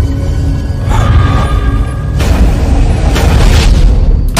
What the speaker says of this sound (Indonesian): terdengar dua tembakan yang kemudian meletus